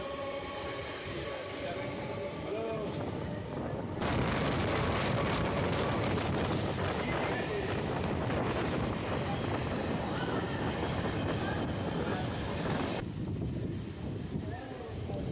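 A local train running on the Majerhat to Barasat line rumbles and rattles continuously, with loud broadband clatter and wind buffeting through the middle stretch and softer rolling noise at the start and end.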